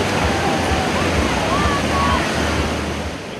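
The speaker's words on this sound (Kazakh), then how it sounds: "Таудан сарқырап аққан таза су" A clear mountain river rushes loudly along a rafting course in Kazakhstan, a steady dense roar of water with a faint voice buried underneath that fades slightly at the end.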